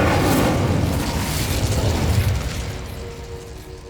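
An Incendio fire spell in Hogwarts Legacy bursts out as a loud, broad whooshing blast, then trails off into a fading roar over a few seconds, with no voices.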